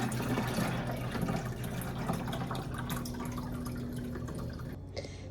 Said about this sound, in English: we have our pitcher of water and we're just gonna go ahead and pour